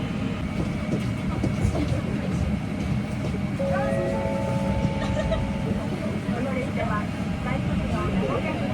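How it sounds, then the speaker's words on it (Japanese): A JR Kansai Line train departs Kuwana station, heard from inside as a continuous loud rumble with rising electric motor whine and faint rail clatter, while a voice talks over it. "桑名駅を出発しました。"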